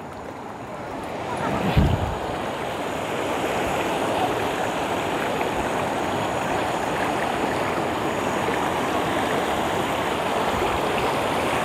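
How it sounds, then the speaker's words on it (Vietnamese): A rocky mountain stream at Đá Giăng on Hòn Bà, Khánh Hòa, rushes over stones in a constant, full-bodied wash of water that runs without a break, with a brief knock near the start. "dòng suối nó chảy nè mọi người"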